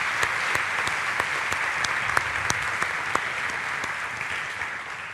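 Steady applause from a church congregation, a dense even patter of many hands clapping that holds for several seconds without a break.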